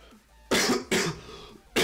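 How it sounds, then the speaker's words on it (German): Three sharp, loud coughs in quick succession, close to the microphone, with brief quiet gaps and no talking. "Mein Husten ist so kacke."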